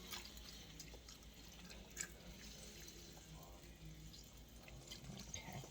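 Liquid is poured over herbed chicken in a Pampered Chef digital Rockcrok pan, giving a steady, soft watery trickle with faint drips throughout.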